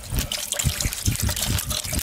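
Water trickles and splashes in uneven pulses as it is poured into the engine bay of a Volkswagen Golf, close and fairly quiet, with no talking over it.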